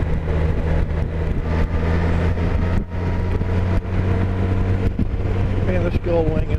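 Steady, loud engine drone with wind rush from a 2012 Honda Goldwing motorcycle cruising along the road, a smooth continuous hum that holds throughout without pause.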